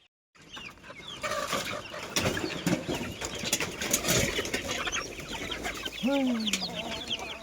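Free-range desi chickens cluck and crow in a yard on a sunny morning, a steady mix of nearby hen calls and rooster sounds with a louder drawn-out crow near the end, and no talking.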